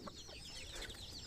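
Sonali chickens on a poultry farm give a quiet, continuous chorus of soft clucks and chirps at a distance, with no talking.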